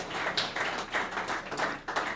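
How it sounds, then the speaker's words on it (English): An audience at an anniversary lecture claps, light scattered applause heard from a distance, soft and uneven, fading in and out over a couple of seconds. "A round of applause for Mr."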